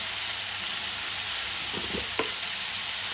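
Tomatoes with a pinch of turmeric cook down in a pan for stuffed masala bitter gourd, giving a steady, even sizzle with a few brief stirring scrapes partway through and no voices.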